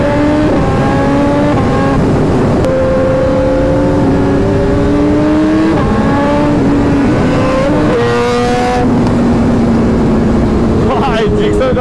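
A stock Suzuki Gixxer motorcycle engine hums and rises in pitch through shifting gears on a ride alongside other bikes, a loud, close, continuous tone that steps up and drops repeatedly, with wind rush throughout.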